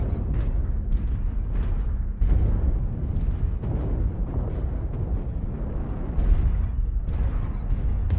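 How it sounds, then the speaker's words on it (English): Missile impacts in the mech combat game MechWarrior Online, a dense run of rumbling explosions and booms layered over continuous low battle noise, loud and close, with sharper blasts near the two- and six-second marks. "Oh, I've got missiles coming."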